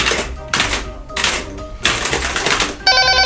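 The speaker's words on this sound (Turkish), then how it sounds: "Baba zil çalıyor" A bell rings in several loud bursts, each about half a second long with short gaps between them, ending in a brighter electronic chime.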